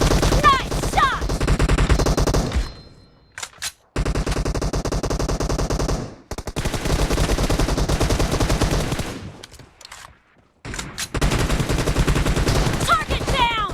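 Rapid automatic gunfire from the PUBG battle royale shooter, loud dense bursts separated by brief gaps, with some voice in the mix.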